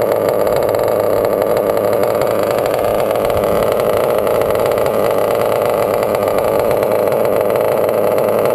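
A small .28 nitro engine idling roughly while still cold, a steady raspy buzz with a fast rattling pulse, loud and close, running continuously without voices.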